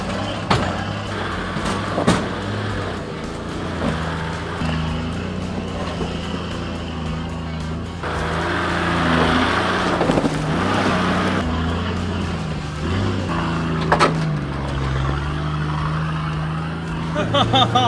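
A Toyota 4x4 crawls slowly over an off-road obstacle on hard terrain: a low engine rumble with knocks and creaks that builds midway, with a few sharp bumps and voices intermittently.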